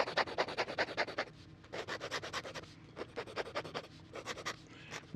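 Close, raspy scratching of a 1936 Parker Vacumatic fountain pen nib dragged across paper in quick repeated strokes, gritty and rhythmic with short pauses between runs.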